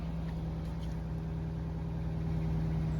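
A 1985 Chevrolet C10 engine, running for the first time after sitting 12 years, idles with a steady low hum and a faint, even rhythmic pulse.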